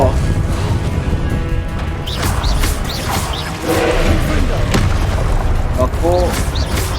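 Incendio fire spell cast in the Hogwarts Legacy video game: repeated crackling bursts and booming crashes amid dense combat noise, with several sharp impacts and a fiery whoosh, and someone speaking over it.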